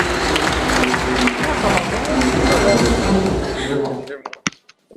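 A dense, sustained burst of audience applause welcomes the legal director at a legal debate event, then stops abruptly, leaving a few scattered final claps.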